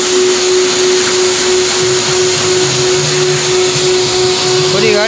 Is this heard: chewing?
no